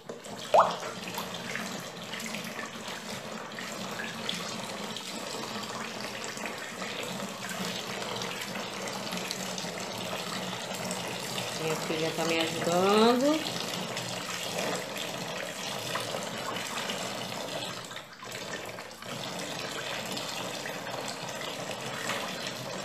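Dissolved caustic soda solution, one kilo of lye in two litres of water, pours steadily into waste cooking oil for homemade soap, a continuous close splashing gush lasting throughout with a brief louder splash midway.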